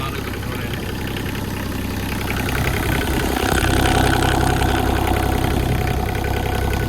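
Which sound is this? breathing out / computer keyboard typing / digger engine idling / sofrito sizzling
digger engine idling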